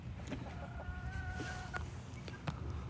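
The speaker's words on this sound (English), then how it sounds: "I think these chickens have a better house than Feed and Flash." Hens cluck softly and repeatedly at a moderate distance on a farm, with a few higher calls mixed in over faint outdoor background noise.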